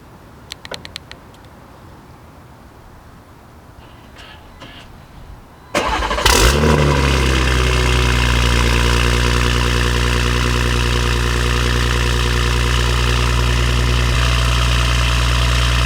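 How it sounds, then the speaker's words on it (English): A Gen 3 B58 car engine with a new downpipe cold starts after a few quiet seconds, the starter catching into a loud, sudden roar that settles into a steady, heavy idle close by. "Let's get a cold start"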